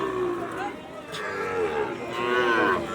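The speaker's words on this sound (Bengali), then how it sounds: "সুন্দর কোয়ালিটি সম্পন্ন গরু।" Cattle such as Sahiwal and Gir cows moo repeatedly at a cattle market in Bangladesh, long loud lowing calls close by with people talking in the background.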